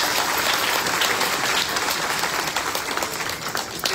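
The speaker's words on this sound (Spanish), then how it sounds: "Vamos a dar un aplauso." A church congregation at a solemn Catholic Mass in honor of Our Lady of Altagracia bursts into loud, sustained applause, dense and steady for several seconds before tapering slightly.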